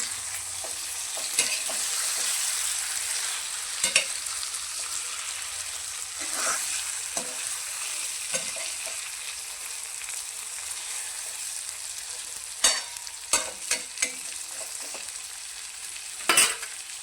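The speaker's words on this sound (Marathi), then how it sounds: "या मिरच्या मसाल्यामध्ये चांगलं मिक्स करून घ्या" Stuffed capsicum peppers being stirred into spice masala in a hot pan, a continuous soft fry and sizzle with scattered scraping clicks of the spoon, clustering more densely near the end, close and without speech.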